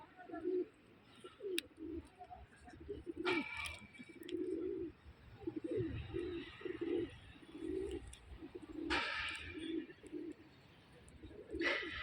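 Pigeons coo repeatedly in low, throaty bursts on a farm, with occasional wing flaps and rustling between calls, close and fairly clear.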